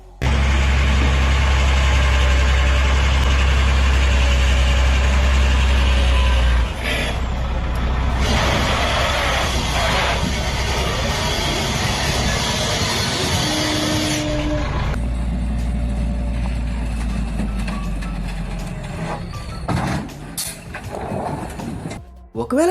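A heavy truck engine rumbles and strains loudly at low revs as a crane pulls it while it slides backward, with hissing air-brake bursts and voices talking over the steady drone.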